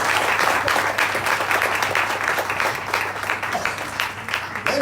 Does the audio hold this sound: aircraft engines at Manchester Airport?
no